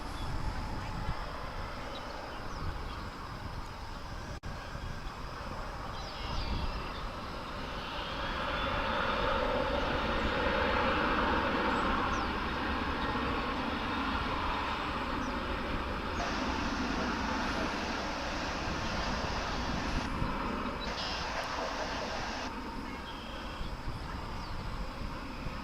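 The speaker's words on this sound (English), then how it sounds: "This aircraft is headed to Los Cabos in Mexico." Jet aircraft at Dallas/Fort Worth International Airport, a broad roaring engine rumble swelling and holding steady at a moderate distance, with faint voices underneath.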